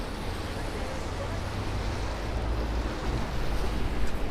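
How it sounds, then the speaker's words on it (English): Strong wind gusts blowing through Manhattan during a March snowstorm, a steady loud broadband roar that swells toward the end, heard close against the microphone with no talk. "we have a lot of wind today"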